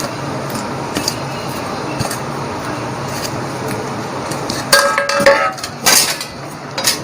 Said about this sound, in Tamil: இப்போ நான் வந்து குழம்புல வந்து இப்போ வடையை போடுறேன்